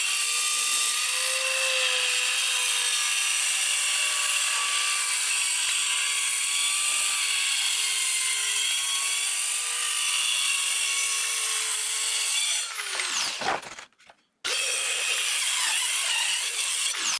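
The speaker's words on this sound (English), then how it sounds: "To cut the table square, I used my handheld circular saw" A handheld circular saw whines steadily through a wooden tabletop for a long, loud cut, its pitch wavering slightly under load, then spins down to a brief silence before revving up again.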